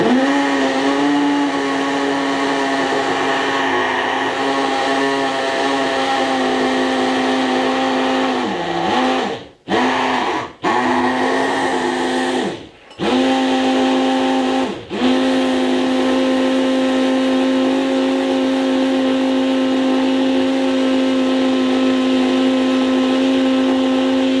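A blender blitzing mushroom soup whirs loudly and steadily at a constant pitch, briefly dipping and cutting out a few times as it's pulsed, then resuming its high drone.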